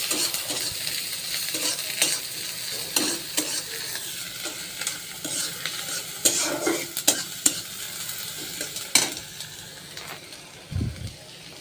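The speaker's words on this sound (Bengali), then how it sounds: "পেঁয়াজটা ভাজা ভাজা করে নেব" Chopped onions and green chillies fry in a pan for a tomato fish curry, with a constant hissing sizzle and frequent scraping and tapping as a spatula stirs, close and fairly loud and without speech.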